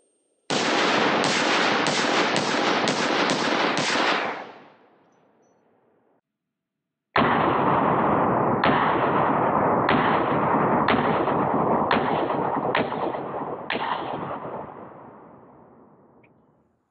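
Full-power 5.56 55-grain rifle rounds fired at a level IV armor plate: a rapid string of loud, close shots, a pause, then a second longer string that fades out.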